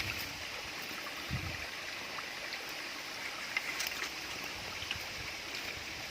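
Steady rushing and trickling of a river running over rocks at the bottom of a ravine, continuous and moderately loud, with no voices.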